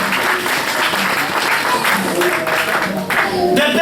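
A church congregation bursts into loud, sustained applause and cheering in praise of the Lord Jesus Christ, a dense wall of clapping that runs unbroken throughout with voices mixed in.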